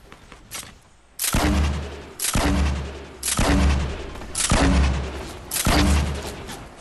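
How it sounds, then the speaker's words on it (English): Heavy video game gunfire booms in repeated loud, sustained bursts, about five volleys roughly a second apart, with deep rumbling tails and no talk. "God, I'm getting shot from so many different angles"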